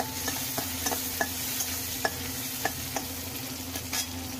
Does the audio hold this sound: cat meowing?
no